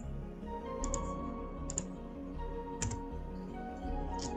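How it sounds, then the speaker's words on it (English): Keys clatter on a computer keyboard in a quiet room, a steady run of soft close taps with a few sharper clicks scattered through, no voices. "I'm gonna type that in"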